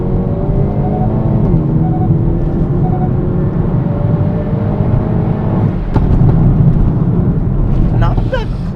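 A 2025 Hyundai i30N hot hatch with 280 horsepower accelerates hard, its engine rising in pitch through the gears with a shift partway, steady roar from inside the car.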